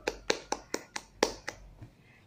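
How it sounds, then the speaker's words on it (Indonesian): A small classroom group claps a few times, about seven sharp, evenly spaced claps, fairly quiet and close, then stops. "Beri tepuk tangan buat Aulia."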